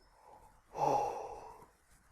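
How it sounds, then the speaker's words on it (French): A person yawns slowly with the mouth half open during a qi gong exercise, one soft drawn-out breathy yawn rising and fading in a quiet room. "Et on laisse venir les bâillements,"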